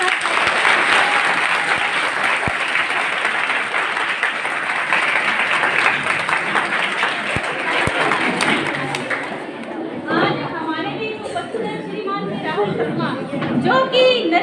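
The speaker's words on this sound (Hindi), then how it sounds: "इनका जोरदार तालियों के साथ" Loud, dense applause from a crowd welcoming guests at a school event, sustained for about ten seconds before thinning out as talk and chatter take over near the end.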